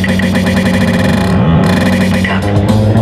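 A loud DJ loop plays on a Numark NS7 controller, its endpoint truncated so a short segment repeats continuously into a dense electronic build-up, with a brief filtered dip midway and no talking.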